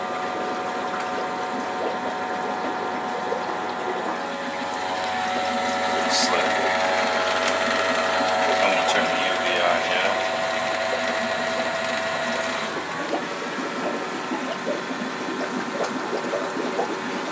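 An Aquatop AF300 canister filter pump self-priming with water gives a steady, fairly loud mechanical hum and whir with gurgling water, continuous throughout and swelling slightly in the middle, with no talk over it.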